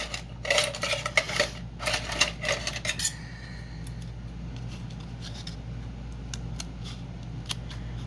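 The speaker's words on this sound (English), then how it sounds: "I'll grab my smaller scissors here." Small scissors snipping during a fairy door craft project, several quick crisp metallic cuts in the first three seconds, close and fairly quiet, then only faint scattered clicks over low background hum.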